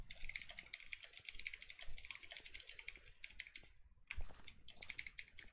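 Rapid keystrokes on a computer keyboard, typed in bursts with a brief pause near the end before the clicking resumes, close and fairly loud against quiet room tone during a live Minecraft server play session.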